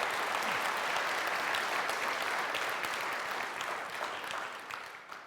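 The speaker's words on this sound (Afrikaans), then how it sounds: "julle kan hande klap" A church congregation claps its hands in sustained, dense applause that holds steady throughout and eases off slightly toward the end, with no talking over it.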